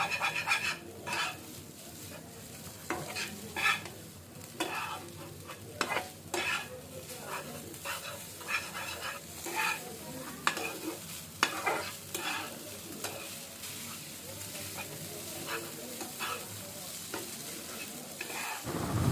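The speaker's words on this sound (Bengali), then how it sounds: "তো এরপরে একটু ভাজবো" Noodles stirred and frying in a pan, with a steady sizzle broken by repeated scraping and clinking strokes of a utensil, close and fairly loud throughout with no talking.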